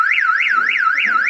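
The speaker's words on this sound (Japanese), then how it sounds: "その置き去りにされてしまった子が動くとどのようなアラームが鳴るのか検証していきます" An in-car alarm warning of a child left behind, set off by movement inside the vehicle, wails in a rapid rising-and-falling electronic siren that repeats about four times, loud and close with no talking.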